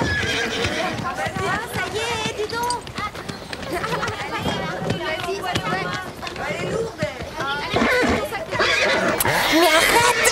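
Horses loudly neighing and whinnying with hooves clip-clopping as they are loaded into a truck, continuous and busy throughout, with some background voices and commotion.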